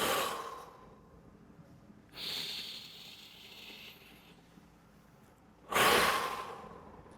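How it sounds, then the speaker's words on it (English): Slow, deliberate breathwork demonstration breaths: a strong exhale, a long drawn inhale, then another forceful sighing exhale, close and alone with no talking. "So the breath's coming like this."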